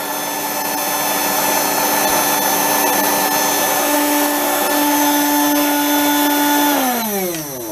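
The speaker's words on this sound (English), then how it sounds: "A pretty fast little motor." A small, fast electric hobby motor with a faulty switch whines loudly and steadily at close range, then winds down near the end as its pitch falls.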